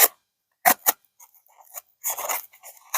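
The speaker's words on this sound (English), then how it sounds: "Do some nice easy slices with the cardboard there if you need to" A Carnivore Gen 2 knife slices through cardboard in several sharp, close rasping cuts. Two quick strokes are followed by a longer drawn cut and a few scraping passes, with brief silences between them.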